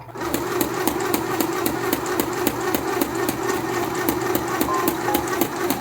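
A household sewing machine stitching cloth for a cushion, running steadily with a fast, even mechanical rattle and hum close by, with no pause across the whole stretch.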